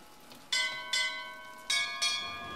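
Bells ring in the video game Bioshock Infinite, four bright metallic strikes in two pairs, each leaving a clear ringing tone that fades slowly over a quiet background.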